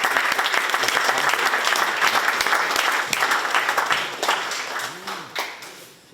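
Sustained audience applause at a lecture introducing a new liberal arts school, dense clapping from many hands that holds steady, then thins and fades toward the end.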